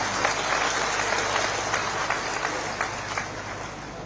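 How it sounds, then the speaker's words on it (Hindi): Steady applause from a sizable crowd at a live public event with Indian politicians in Una, Himachal Pradesh, a dense continuous patter of clapping that holds evenly throughout. "उसके लिए तो जोरदार तालियां आपको बजाना है"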